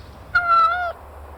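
A white cat in a children's story gives a single drawn-out meow, clear and steady, lasting about half a second before it breaks off.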